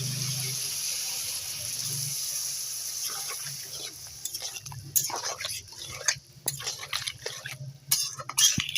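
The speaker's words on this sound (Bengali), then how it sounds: "এবার দিয়ে দেব জল।" Water pours into a pan of Bengali puti fish curry with potatoes, starting as a steady gush and then breaking into irregular splashes and clinks of utensils against the pan, close by.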